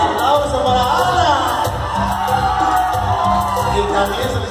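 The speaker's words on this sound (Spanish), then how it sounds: "Y el aplauso para Ana." A lively crowd at a live music and dance show cheers and shouts, a dense, continuous roar of voices with whoops rising over it, loud and close throughout.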